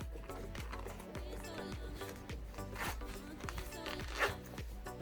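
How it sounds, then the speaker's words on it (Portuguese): A zipper is drawn open on a handmade fabric phone wallet, a soft scratchy run heard close under steady rhythmic background music. "vou abrir aqui o meu cursor, né? Abrir o zíper."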